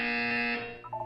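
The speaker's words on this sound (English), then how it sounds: "When you hear the buzzer, look down at the floor." A steady electronic buzzer from the video game Portal 2 drones loudly for about half a second to a second, then fades and breaks into a few short wavering tones at the end.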